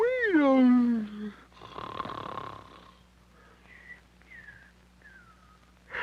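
A cartoon character snores in a loud, long, wheezing inhale with a breathy rasp, followed by a few faint whistling tones as the sound tapers off.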